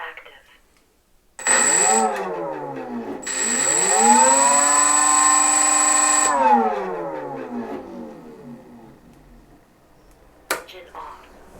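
The electric motor of a Dynam Hawker Tempest 1250mm RC warbird spins up twice on the throttle, a loud tonal whine that rises in pitch and holds, then winds down and fades, followed by a sharp click.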